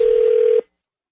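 A telephone tone sounds at the start of a radio prank phone call, a single steady pitched beep lasting about half a second before cutting off into silence.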